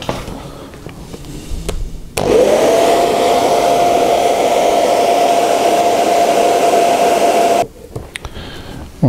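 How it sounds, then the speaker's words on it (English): A hair dryer switches on at maximum heat on its lowest flow setting, running as a loud, steady whine for about five seconds before cutting off, used on a leather bag repair. "We're going to be using the hairdryer, maximum heat, but on the first flow setting."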